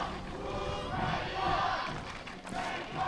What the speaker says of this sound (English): with the Ukrainian crowd supporting the top of the stand